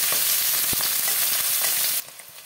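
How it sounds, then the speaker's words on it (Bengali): Cleaned snails and chopped onion frying in oil with whole cumin and cloves, a loud close, dense hiss of sizzling with a few stirring knocks that drops to a softer sizzle at the end. "একটু ভেজে দেবো তেল পেঁয়াজের সাথে"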